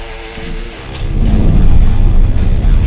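A luxury Autobiography-trim car that reaches 100 km/h in 5.3 seconds revs its engine, a deep rumble that swells after about a second and holds loud and close to the end.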